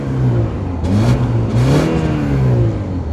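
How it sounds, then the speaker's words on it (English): A BMW 330i in comfort mode revving its exhaust, a moderate engine rise and fall in two or three swells, close and fairly loud, with no talk. "Oh, it's exhaust time. All right, guys, ready to hear some exhaust?"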